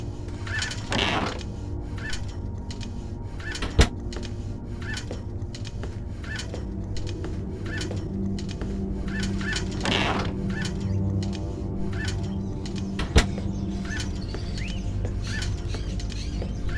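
Birds chirp and squawk in a blind man's indoor aviary in the video game Fahrenheit: Indigo Prophecy, with repeated short calls over a steady mechanical whirr and two sharp clicks, and no speech.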